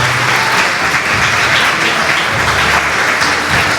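An audience at an annual African American conference applauds, with loud, sustained, dense clapping throughout.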